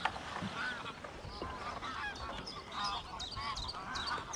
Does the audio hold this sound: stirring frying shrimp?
no